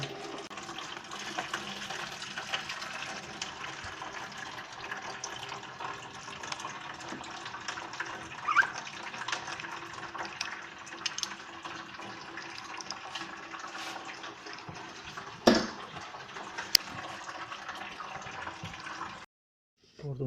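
Coolant drains from the radiator of a 1996–2001 Honda Civic, a steady trickling, splashing water flow that runs continuously for nearly twenty seconds before cutting off.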